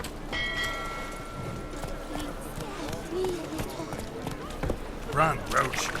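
Roach the horse galloping in The Witcher 3: a continuous rhythmic patter of hooves under a game soundscape with a faint ringing tone, while a voice speaks over it.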